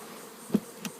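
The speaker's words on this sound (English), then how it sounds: "there's a few bees on the porch here" A few bees left on a porch after a lost swarm give a faint, continuous buzz close by, broken by two quick louder passes as individual bees fly near.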